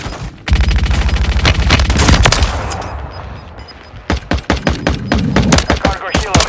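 Heavy automatic gunfire in Call of Duty: Modern Warfare 3 ground war, loud and close, with long sustained bursts and rapid stuttering shots, plus a faint rumble of battlefield noise.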